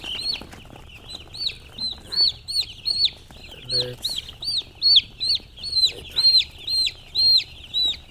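Young broiler chicks peep in a steady series of sharp, high chirps, close and clear, roughly two per second, with a brief low thump partway through.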